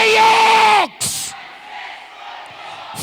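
A convention congregation shouts a prayer together in one loud, sustained mass cry that breaks off sharply, then leaves a noisy crowd murmur with brief bursts of louder voices.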